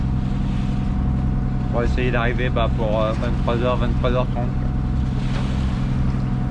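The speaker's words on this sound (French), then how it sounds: "Donc là on a mis le moteur" A sailboat's engine drones steadily while motoring across the Bay of Biscay, a constant low hum with a faint tonal whine throughout, as someone speaks over it briefly.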